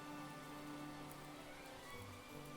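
Steady light rain patters on a flimsy house of sticks on a cartoon deserted island, a continuous soft hiss of drops with no voices.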